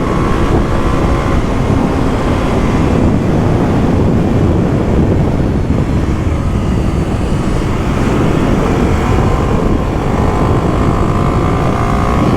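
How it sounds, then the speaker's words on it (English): Strong wind buffets a microphone outdoors while riding a 2023 Kawasaki KLX300SM, a loud, constant low roar that fills the whole stretch without a break. "It is very windy out here today."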